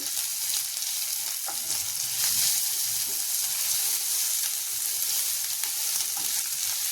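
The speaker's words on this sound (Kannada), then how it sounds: "ಸಣ್ಣ ಉರಿಯಲ್ಲಿಟ್ಟು ಫ್ರೈ ಮಾಡಬೇಕು ನೋಡಿ" Drumstick leaves and urad dal fry on a low flame, a steady close sizzle and crackle with a few light stirring scrapes and no voices.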